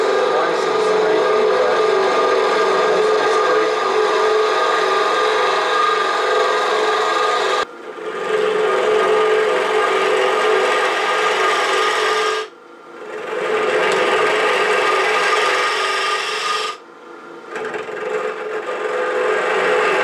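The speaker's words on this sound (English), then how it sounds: "Back on and kind of scraping, slicing," A lathe tool scrapes and slices into a spinning wooden apple-shaped box, a continuous raspy, gritty hiss in long stretches broken by three short pauses as the cut is lifted off.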